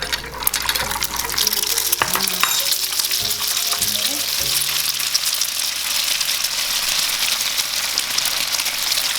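Egg deep-frying in hot oil for Thai mee krob crispy noodles crackles in a loud, dense, unbroken sizzle, with a few knocks and bubbling bursts early on.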